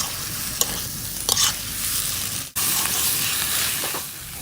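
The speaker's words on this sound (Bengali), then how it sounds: "মশলাগিলা কড়াইত নাড়িতে নাড়িতে এইভাবে ভাজা নিয়া" Spices with turmeric, salt and red chilli powder fry in hot oil in a wok while a utensil stirs them, giving continuous sizzling, scraping strokes and a brief clatter midway.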